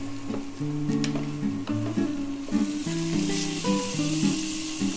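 Chili hitting hot oil in a frying pan while cooking semolina pilaf, a steady close sizzle with stirring clatter and scraping over the full stretch, no talking.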